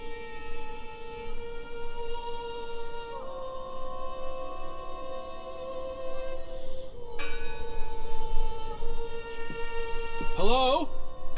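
A bell in the video game Draugen tolls with sustained, ringing tones that swell and fade over several seconds, with a voice speaking briefly near the end.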